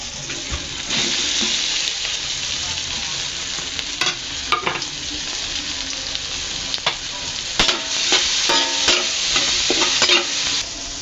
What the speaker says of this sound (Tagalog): ibubuhos na natin o ilalagay na natin ang ating patola